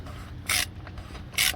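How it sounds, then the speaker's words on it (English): Socket ratchet tightening an oil drain plug during an oil change on a 2010 BMW X5 48i, giving two short, bright bursts of close ratcheting clicks about a second apart over a low workshop hum. "I like to keep my hand right over the head of this sock ratchet, because it gives you a better feel."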